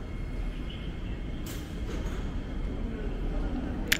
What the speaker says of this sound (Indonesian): yang kita lihat rangkaian keretanya yang masuk ini adalah rangkaian kereta yang lama, nampaknya Nippon Sanrio yang lama ya.